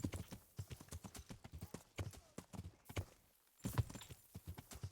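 Steady clip-clop of a horse's hooves in the medieval game Kingdom Come Deliverance, close and rhythmic, with a short pause before the trotting picks up again.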